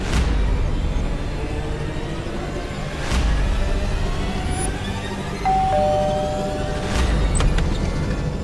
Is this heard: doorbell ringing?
yes